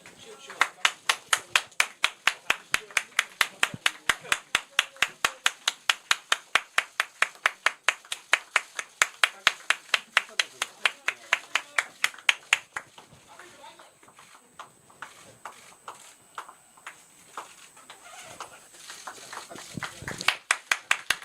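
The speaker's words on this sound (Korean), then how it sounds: "자, 우리 당원 여러분 박수 한번 주세요." Party members at a political party's induction ceremony clap in a fast, steady rhythm, crisp and close, for about twelve seconds. The clapping then thins into scattered claps under a low murmur of voices.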